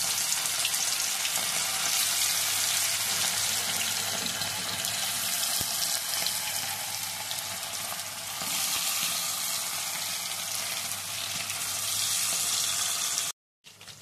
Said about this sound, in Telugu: మరిగిన ఆయిల్లో ఇప్పుడైతే నెత్తళ్ళు తీసుకుందాము